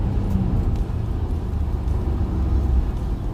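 A Ford Bronco Badlands on KO2 tires pulls through snow and slush on back roads, its engine a steady low rumble that swells slightly as it accelerates, heard from inside the cabin with no talking.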